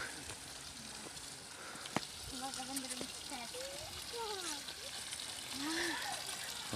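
Water from the Saint Francis spring stream trickles and splashes continuously while several people, including children, chatter nearby.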